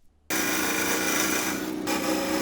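A parting tool cuts grooves into wood spinning on a lathe for a garden dibber, a sudden loud, steady rasping scrape that starts abruptly and holds without pause, close and with no voices.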